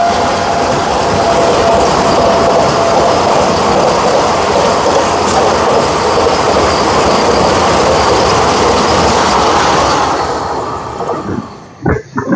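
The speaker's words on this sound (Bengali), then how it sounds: "চলে আসছে, দেখাই সামনে, ট্রেন নাম্বার 22302 NJP থেকে হাওড়া" The orange Vande Bharat Express 22302 from NJP to Howrah roars past at close range in a loud, steady rumble with clattering wheels, then fades sharply near the end.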